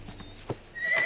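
A horse neighs in a dubbed South Indian film scene, a sharp rising whinny near the end after a few soft hoof clops, fairly close and loud against a quiet background with no talk.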